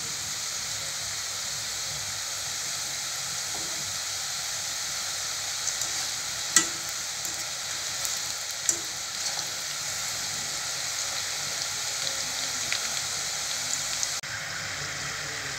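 Small pooris frying in oil, a faint, even bubbling hiss with a couple of soft clinks near the middle.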